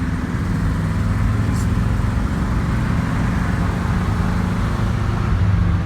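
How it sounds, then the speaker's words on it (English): A Ghostbusters Ecto-1 replica with its original 390 high-torque engine and straight pipes throughout runs with a loud, continuous, rumbling hot-rod drone, close and steady with road noise. "Thing sounds like a hot rod, but that's because we put straight pipes on it all the way back."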